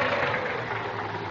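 An old car's engine idles roughly with an uneven, misfiring beat, close and steady at moderate loudness with no talk over it.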